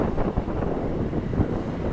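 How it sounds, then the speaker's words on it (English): Steady wind buffeting the microphone with a low rumble, constant and fairly loud, no voices, out on a coastal point at Ericeira, Portugal. "It starts getting pretty windy"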